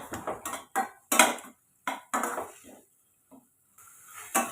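Intermittent scraping and clinking of a utensil against a pan while stirring spices and ginger-garlic paste for tomato rice, short bursts with brief pauses between, close and fairly quiet.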